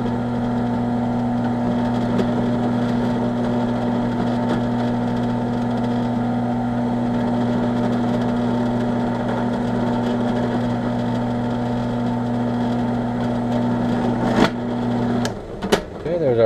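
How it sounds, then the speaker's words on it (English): A drill runs steadily while boring pin holes, a loud continuous motor hum with a constant pitch that ends abruptly near the close, followed by a few sharp knocks. "We're going to drill our holes like this."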